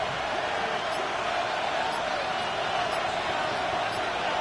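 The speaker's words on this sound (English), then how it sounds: "This crowd into it now as we get to third down." Football stadium crowd roaring before a third down, a dense, sustained wash of cheering that stays loud and even, with a commentator talking over it.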